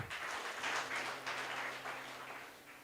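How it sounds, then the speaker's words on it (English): An audience at a teen panel discussion clapping as children take their seats, steady moderate applause from a small room that gradually fades over about three seconds. "Let us clap for them as they be seated."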